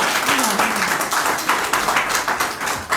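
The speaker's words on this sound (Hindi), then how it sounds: "तालियों के साथ स्वागत करें।" Applause welcoming a guest at a felicitation event at BJP headquarters in Jammu, a steady wash of many hands clapping at close range with a voice briefly over it.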